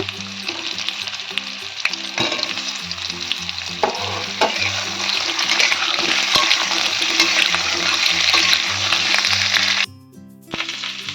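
Boiled potatoes fry in hot oil with a loud, continuous close sizzle and scattered clinks and scrapes of stirring, cutting off abruptly near the end before a brief quieter tail.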